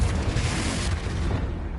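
A Confringo fire spell detonates in the Hogwarts Legacy video game, a loud, deep rumbling boom that sustains and rolls off over a couple of seconds, heavy in the low end with no voices.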